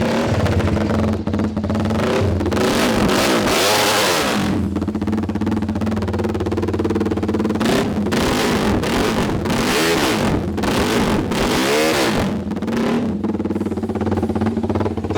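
A TVS Apache RR 310 race bike sits close by and revs hard repeatedly, each blip rising to a loud snarl and then dropping back to a rumbling idle.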